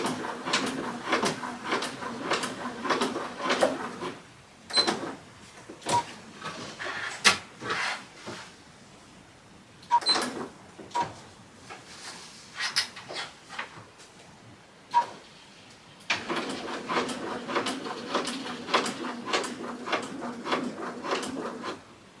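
A sewing machine top-stitches a rectangle with topstitching thread on a fall garment, running in short bursts of rapid, regular mechanical ticking separated by quiet pauses and small handling clicks.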